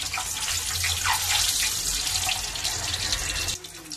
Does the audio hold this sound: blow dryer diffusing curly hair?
no